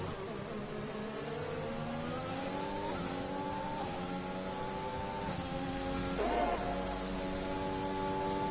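Formula 1 race cars in a racing video game at the Brazil round, with a Red Bull and a McLaren in the fight, give a steady high-pitched engine whine that climbs and shifts through gears, with a brief louder burst near the end.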